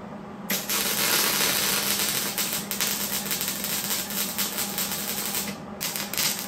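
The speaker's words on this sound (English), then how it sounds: "I'm just gonna go ahead and tack weld it in place so we can kind of work on the back side" Tack welding on a 1951 Dodge Power Wagon door panel, a steady loud crackling hiss of the welder running nearly continuously, close up, with no talking.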